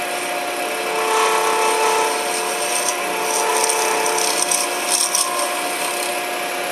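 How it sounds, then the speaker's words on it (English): A scraper tool works a spinning acrylic blank on a lathe, giving a steady, loud, continuous whirring rasp with a persistent motor hum and brief surges in intensity. "I'm not using it as a skew at this point, I'm using it more as a scraper."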